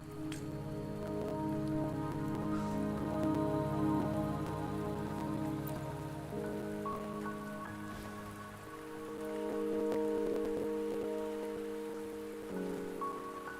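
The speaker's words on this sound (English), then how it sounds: "Don't worry, the rain won't last much longer." Steady rain falls in the video game Wuthering Waves, a dense continuous patter that holds for the whole stretch and swells slightly midway, with no voices over it.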